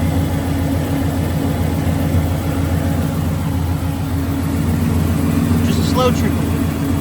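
A car engine idles steadily as its water pump circulates fresh coolant, a constant low rumble holding throughout with a brief faint voice near the end.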